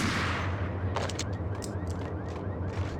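Ingram submachine gun fire in the 2001 PC shooter Max Payne, a series of rapid sharp bursts over a steady low rumble, loud and close, with no talking.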